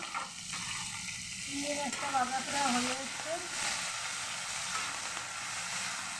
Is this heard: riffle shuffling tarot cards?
no